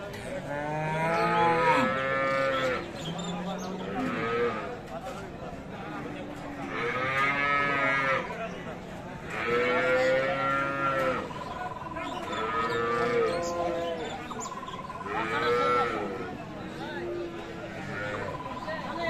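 Friesian cows moo loudly again and again at a cattle market, several long, deep, drawn-out calls with short gaps between them, close by.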